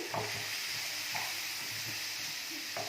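Ingredients for uggani stirred together in a hot pan, with a steady sizzling hiss and faint intermittent scraping of the spoon, close by and without voices.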